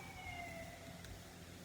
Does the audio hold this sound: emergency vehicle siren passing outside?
yes